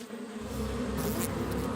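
A swarm of cartoon bees buzzes steadily and fairly loudly for the whole moment, a continuous droning hum that swells slightly partway through, with no voices over it.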